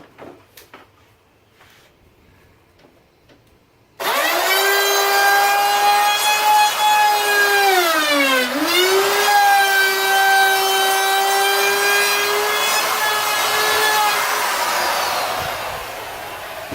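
A saw rips through a wooden sample board, starting abruptly after a quiet stretch and then running loud and steady with a strong whining tone that sags briefly mid-cut before recovering and fading slightly at the end.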